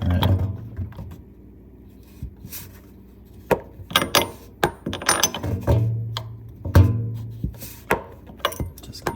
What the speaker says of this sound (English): I'm gonna have to use a wrench to slowly remove that out so I'm able to remove this plate